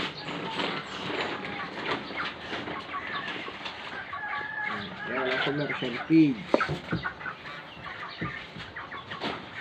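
Free-range heritage chickens cluck and squawk while being fed commercial feeds at dinner time, busy close calls mixed with rustling and someone speaking over them.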